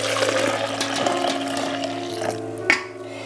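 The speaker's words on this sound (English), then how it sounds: "what we're going to do is pour back some of this juice in the blender" Carrot juice is poured back into a blender as a continuous liquid splash and gurgle, with a brief knock near the end before the flow eases off.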